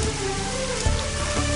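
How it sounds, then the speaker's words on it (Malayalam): Rain dripping and falling into a room, a dense, steady patter that fills the whole stretch with no voices over it. "നിന്റെ മുറിയിൽ നിന്ന് ഇറ്റിട്ട് വീഴുന്ന മഴ"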